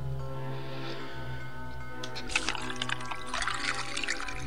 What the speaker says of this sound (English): So let's go draw the water again.